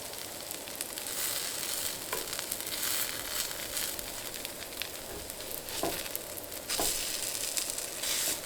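Potato pancake frying in oil or butter in a pan, a steady close sizzle with crackling pops and a few brief scraping stirs, no talk.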